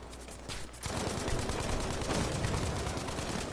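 Dense, continuous gunfire and fusillade in a Battlefield match, sustained loud volleys with explosive bursts; a brief quieter lead-in before the firing swells and holds steady.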